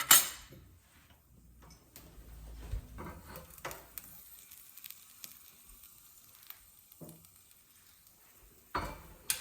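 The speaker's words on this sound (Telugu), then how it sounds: "మెంతులు కొంచెం ఎర్రగా వేగాలండి" Fenugreek seeds fry in a pan while sambar masala is made, a faint close sizzle with scattered light ticks and stirring scrapes, plus a louder burst at the start and near the end, with no voices.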